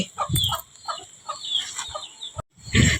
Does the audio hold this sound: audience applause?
no